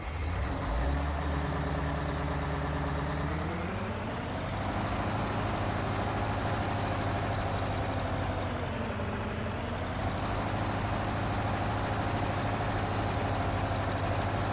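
A tractor engine in Farming Simulator 19 idles with a steady low drone and a slight dip in pitch partway through, loud and continuous with no talk over it.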